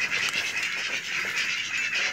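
A flock of domestic ducks quacks in a dense, continuous chorus while being fed snail meat, loud and close with overlapping calls and no talking.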